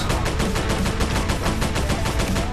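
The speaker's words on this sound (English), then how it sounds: "let's see if I can fire some shots at these guys" Rapid bursts of gunfire from the video game Mining for Gems: The Outer Rim, a steady run of sharp repeated shots at even rhythm, loud and close, continuing without pause and with no voices over them.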